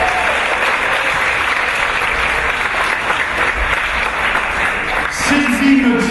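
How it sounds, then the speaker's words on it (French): An audience, likely a church congregation, applauds the actors after a play, with dense sustained clapping close by and a voice speaking over it near the end. "On applaudit nos acteurs,"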